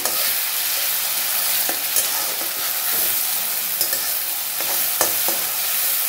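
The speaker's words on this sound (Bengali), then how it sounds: "দিয়ে এটা কিছুক্ষণে নাড়াচাড়ি ভেজে নেবো।" A paste of ginger, garlic, green chili, cumin and coriander stir-fried in a pan while cooking chicken gizzard with mushrooms: a steady loud hiss of frying, punctuated by occasional clinks and scrapes of the spatula, close up with no voices.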